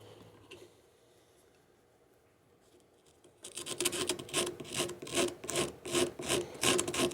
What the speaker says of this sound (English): So I'm going to see what I can do with these rasps